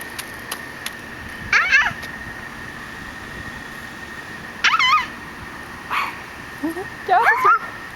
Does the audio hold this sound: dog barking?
yes